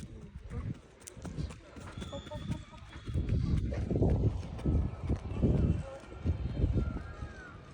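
A horse for sale in Madurai walks along while being led, its hooves clip-clopping in an uneven rhythm close by, mixed with steady outdoor noise and people talking.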